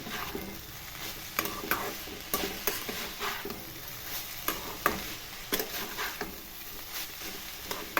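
Slit green chillies are stirred and fried in a pan for a vegetarian banana-stem dish, giving a steady close sizzle broken by repeated sharp scrapes of the spoon, with no talking.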